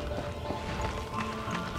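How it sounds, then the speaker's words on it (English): Horse hooves clip-clop at a steady walking pace through the Darksiders 2 video game, a moderately loud, even rhythm running over a continuous backdrop of game ambience and music. "This is no place for a horse."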